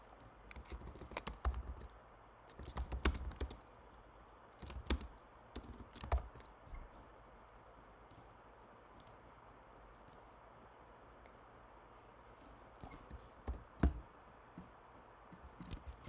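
Bursts of computer keyboard typing in a terminal, quick clusters of key clicks separated by quiet pauses, close and fairly soft.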